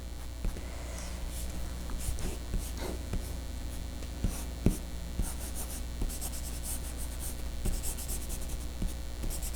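Charcoal drawing paper being erased to remove grid lines, a steady soft scratchy rubbing with frequent small scrapes and taps, close and continuous with no talking.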